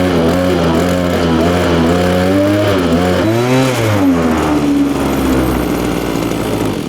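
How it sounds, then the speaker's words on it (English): A Cobra BC330CU brush cutter engine, just started with the choke down, revs up and down loudly and close, pitch swooping then settling into a steady higher whine. "At the same time, I'm going to rev the engine."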